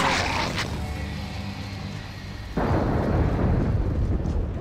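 Thunderstorm in the video game Gears of War 2: a low rumble rolls on, then a sudden loud crash of thunder breaks in and sustains a heavy roar to the end.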